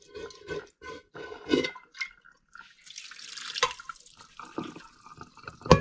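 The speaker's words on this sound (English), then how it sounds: "So we're straining the rice now" Cooked rice is drained through a strainer, water pouring and splashing in uneven bursts with drips and trickles, moderately close and with no talking.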